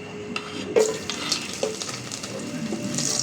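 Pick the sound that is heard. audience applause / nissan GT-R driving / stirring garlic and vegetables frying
stirring garlic and vegetables frying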